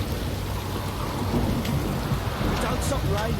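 Rain and thunder in the video game The Witcher 3, a dense steady downpour hiss with low rumbling underneath, continuous and fairly loud throughout.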